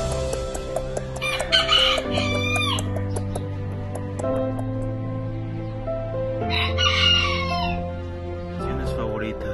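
Miniature roosters at a small breeding farm crow loudly several times, with nearby hens and cocks clucking between the crows against a steady background.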